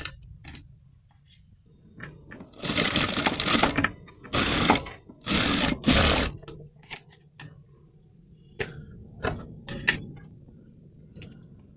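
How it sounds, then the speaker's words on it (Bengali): A sewing machine runs in short bursts while it topstitches baby dress fabric, with several rapid mechanical whirring runs separated by sharp clicks and small handling ticks, close and fairly loud. "আর এই দিকটাতে আবার আমরা চাপ সেলাই দিয়ে নিচ্ছি।"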